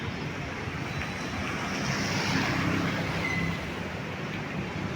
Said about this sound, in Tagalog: Mahina pa rin ang ulan at hangin.